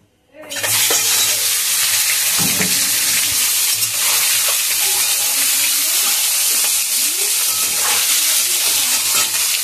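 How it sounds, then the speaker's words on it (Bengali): Five eggs fry in hot oil with a loud, dense, continuous sizzle that starts abruptly and holds steady throughout, with small spatters and pops on top. "দেখতে পাচ্ছ ডিম ভাজা"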